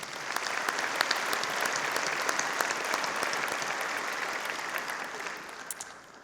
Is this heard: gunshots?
no